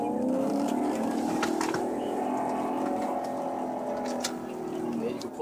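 A 2007 Maserati pulls away after a slap shift into first gear. Its engine drone swells with rising tones, close and steady throughout, with voices talking over it.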